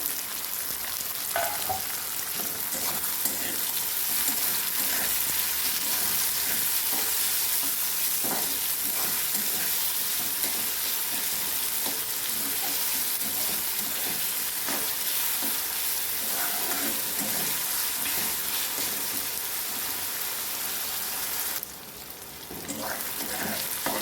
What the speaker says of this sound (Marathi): टमाटा पण आपण टाकून घ्यायचे आता म्हणजे कांद्याबरोबर टमाटा पण छान परतल्या जाईल